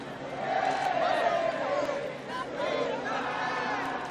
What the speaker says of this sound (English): the crowd right now is chanting USA.